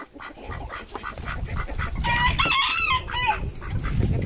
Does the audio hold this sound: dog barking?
no